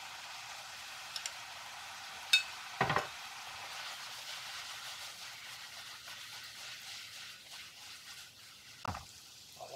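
Butter sizzles in a pan of scorpionfish kavurma seasoned with teriyaki sauce, a soft steady frying hiss broken by a few sharp clicks and utensil knocks.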